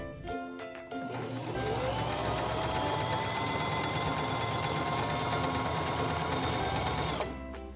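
A Singer 3232 sewing machine stitches fabric in one steady, fast whirring run of several seconds, starting after a brief pause and stopping cleanly, heard close with no talking.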